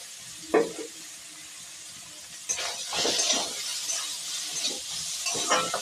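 Banana flower mixture with turmeric, chilli and cumin powder is stirred in a pan for Bengali mochar chop. A single scrape comes first, then steady scraping spoon strokes over a soft sizzle, close and alone.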